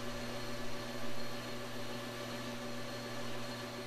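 A lathe parts off a 1-inch steel bar with Tap Magic cutting fluid, giving a steady, even machining whine and hum with faint broadband hiss, moderately quiet and continuous, with no voices.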